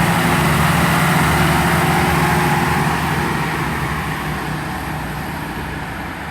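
Great Western Railway class 166 diesel train, 166220, idling at Bristol Temple Meads station: a steady loud low engine rumble and hum that eases slightly over the few seconds, with no talk.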